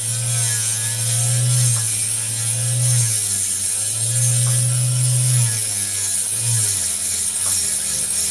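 An opal is cut on a lapidary saw, trimming a small piece off the stone: a continuous loud whirring grind with a low droning motor tone that wavers and dips as the blade bites.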